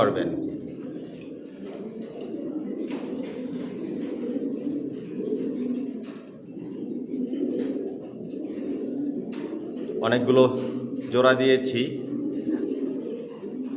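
Pigeons coo in a home pigeon loft, a steady low murmur of overlapping calls throughout, with someone talking over them for most of the time.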